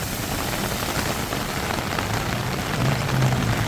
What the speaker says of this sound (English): I love walking in the rain.